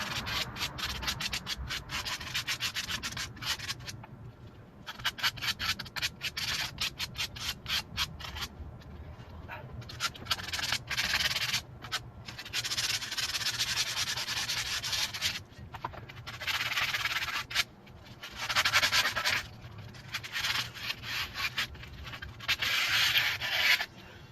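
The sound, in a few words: sanding rust off a truck wheel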